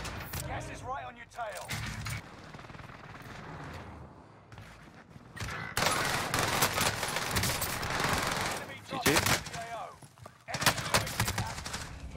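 A PPSh submachine gun fires rapid bursts in Call of Duty Warzone on Rebirth Island, several loud volleys separated by pauses, with someone talking between them.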